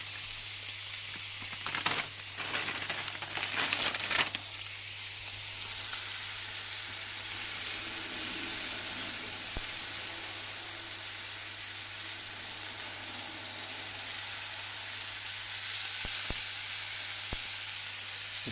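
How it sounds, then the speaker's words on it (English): Sirloin steak sizzles steadily in a hot frying pan, a continuous broadband hiss that stays loud throughout, with a few brief clatters early on and no talking. "you want to be able to hear that sizzle"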